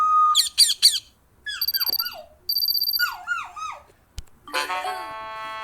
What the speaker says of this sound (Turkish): Papağan. Papağan.